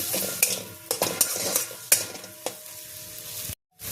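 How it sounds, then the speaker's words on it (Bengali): Garam masala being stirred into a potato stuffing in a pan, with a spoon scraping and clinking against the pan in irregular strokes over a soft sizzle, close by, ending in a sudden cut. "ভালো করে মশলার সাথে গরম মশলাটা মিক্স করতে হবে"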